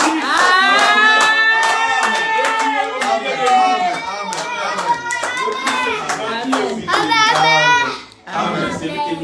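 A church congregation claps steadily and loudly throughout, acclaiming the risen Christ, with voices singing and calling out over the continuous applause.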